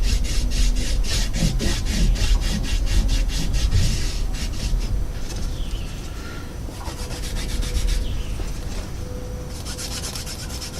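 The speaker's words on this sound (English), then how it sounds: "So I'm going to take the green stropping compound and just rub it into this rough side of the leather." Green stropping compound rubbed hard into the rough side of a leather strop, a steady close scraping and rasping in quick back-and-forth strokes that keeps going throughout with no talking.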